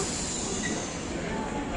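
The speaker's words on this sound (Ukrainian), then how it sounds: "Стоять поїзда." Broad steady rumble and hiss of metro trains standing in a busy Rome subway station, a continuous loud wash of rail noise filling the whole stretch with no clear voices on top.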